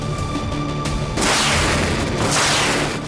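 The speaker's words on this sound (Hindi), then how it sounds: "कॉन्स्टेंटिनोवका में रूस ने पाव 500 बम से हमला कर यूक्रेनी सेना की चौकी को उड़ा दिया" A FAB-500 bomb explosion strikes a Ukrainian army outpost in Kostiantynivka, a loud broadband boom that erupts about a second in and keeps roaring through a second swell before fading, with no voices.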